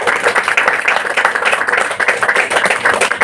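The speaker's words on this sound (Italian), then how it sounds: "vi chiederei un caloroso applauso per tutti i membri della mia band" Concert crowd clapping for a tribute band's members, a loud, close, continuous burst of many hands with an uneven, pulsing texture throughout.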